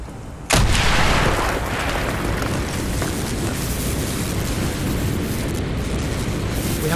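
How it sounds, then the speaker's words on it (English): In the Call of Duty Black Ops video game, an explosion blows a hole in a wall. A sudden loud blast opens into a long, heavy, rumbling roar that fills the rest of the moment. "Mason, blow a hole in that fucking wall."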